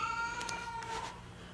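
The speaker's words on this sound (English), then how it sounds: "The creepy sound you're hearing in the background is my cat." Cat meowing in the background, a couple of drawn-out, eerie cries over a faint steady hum, moderately distant, in a workshop during a jobsite table saw setup.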